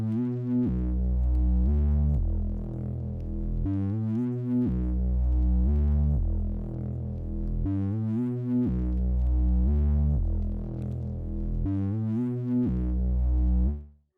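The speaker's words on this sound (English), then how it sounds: "so I went for this bass pattern." A synthesized bass line for a guitar-based beat plays a repeating pattern of short, punchy low notes with a steady rhythmic bounce, loud and alone throughout before cutting off at the end.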